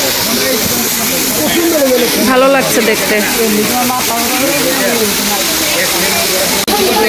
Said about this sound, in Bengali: এই ঝর্ণার পানিগুলো বেয়ে বেয়ে এদিক দিয়ে একদম এভাবে চলে যায়